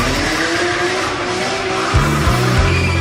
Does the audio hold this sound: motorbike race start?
yes